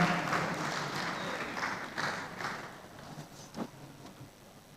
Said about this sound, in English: A warm, resounding round of applause